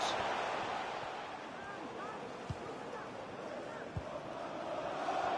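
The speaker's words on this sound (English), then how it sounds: "The crowd encouraging him to take it on." A stadium crowd in the EA FC 24 football video game gives a steady, far-off wash of cheering and chanting, with a couple of brief thumps and faint whistles rising above it.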